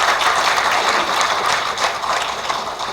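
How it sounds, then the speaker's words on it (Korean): An audience claps together at a Korean commemorative event, a dense, loud, steady wash of applause that holds for the whole span with no voices above it. "박수 한번 부탁드리겠습니다."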